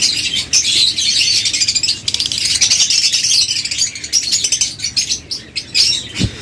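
A large flock of yellow lovebirds at a breeder's aviary chirps and tweets densely and continuously, with bursts of fluttering wingbeats close by.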